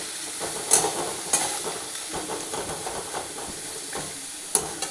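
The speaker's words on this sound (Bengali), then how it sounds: "এবারে পেঁয়াজটাকে লালচে করে ভাজবো।" Onions fry in a pan until reddish, giving a steady, soft sizzle and hiss with a few occasional clinks and scrapes from stirring, close by and without any talking.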